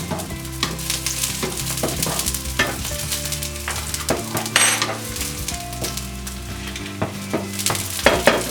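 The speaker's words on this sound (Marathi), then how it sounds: "लसूण आपल्याला जरासेच फ्राय करून घ्यायचे" Garlic frying briefly in oil in a pan for a Maharashtrian val bean dish, a steady close sizzle with scattered stirring scrapes and clinks of a spoon against the pot, no voices.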